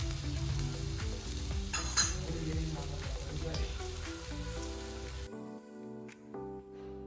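Coriander paratha roasts in oil on a hot tawa, with a steady close sizzle and crackle for several seconds before it drops away to near silence.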